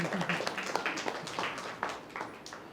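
Faint, distant applause from a gathering at a Buddhist vihara in Amravati, with a scattered patter of hand claps continuing steadily at low volume.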